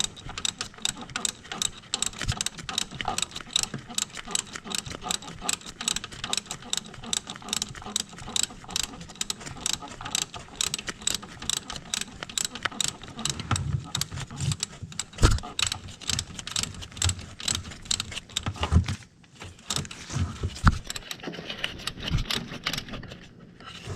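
Fast, rhythmic ratchet clicking as a wrench tightens alternator bolts on a 2011-2019 Ford Fiesta during a timing belt and water pump job, close and steady with brief pauses between strokes near the end.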